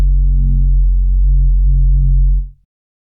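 A synthesized sub bass layer made for sound design, a deep, loud, steady low drone holding for about two and a half seconds before cutting off into silence.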